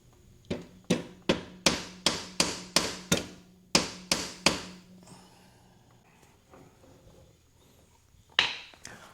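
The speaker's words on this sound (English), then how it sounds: "So I had to use a mallet and a hammer to hammer it down." A run of sharp, heavy hammer blows with a mallet and hammer, driving a part down on a Royal Enfield Himalayan 450 motorcycle shifter, striking in quick succession, then a pause with faint clatter before one last hit.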